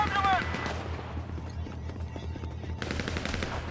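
Rapid automatic gunfire aimed at a driver during a heist mission in the GTA 5 video game, bursts of dense crackling shots running through the whole stretch over a steady engine rumble.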